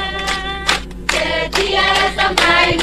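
A church congregation clapping hands in rhythm while singing, sharp claps landing roughly every half second over a blend of voices.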